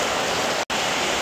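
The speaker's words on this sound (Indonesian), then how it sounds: "Hujan deras nih" Heavy rain pouring down as a dense, steady hiss of broadband noise, loud and unbroken apart from a momentary dropout midway.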